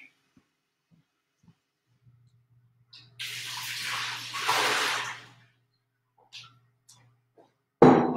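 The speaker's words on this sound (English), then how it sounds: "my jar's almost rinsed out" Running water rinses out a kombucha jar, a short hissing splash lasting a couple of seconds, then a brief trickle and a sudden louder gush at the end amid near silence.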